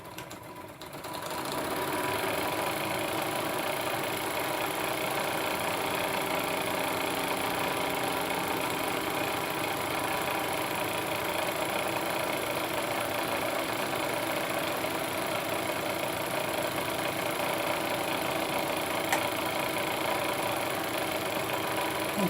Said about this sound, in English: Turn off the light here and get the generator going.